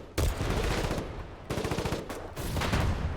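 Gunfire in the Foxhole war game comes in close, loud bursts of rapid automatic shots, three volleys separated by brief gaps.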